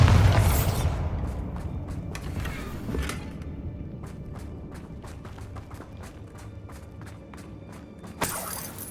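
The Bombarda explosion spell in Hogwarts Legacy opens with a loud booming blast that fades into a long decaying rumble scattered with small shattering ticks and clatters, then a second sharp crack near the end.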